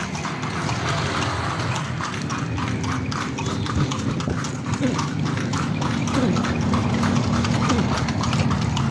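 Horse hooves clip-clop in a steady, continuous rhythm as a kalesa rolls through Vigan, close and fairly loud over street ambience, with occasional voices in the background.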